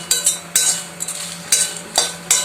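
Dry red chillies are roasted in a pan and stirred for a curry leaf powder, each scrape giving a bright, dry rattle in a quick uneven rhythm, close and clear with no talk.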